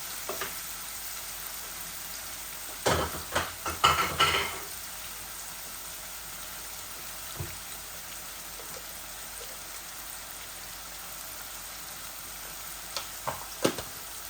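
Boal fish frying with tomato in a pan, a few bursts of sizzling and stirring clatter early on, then a quiet low simmer with occasional faint scrapes near the end.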